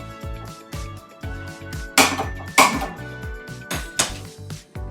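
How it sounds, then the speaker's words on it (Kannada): A metal cooking pot set down on a stove burner while making vatha kulambu, giving a few sharp clanks and scrapes among softer kitchen knocks, loud and close. "ಇವಾಗ ನಾನು ಸ್ಟವ್ ಹಚ್ಕೊಂಡು ಒಂದು ಪಾತ್ರೆನ ಇಟ್ಕೋತಾ ಇದ್ದೀನಿ"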